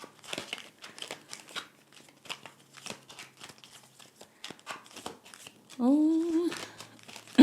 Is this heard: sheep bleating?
no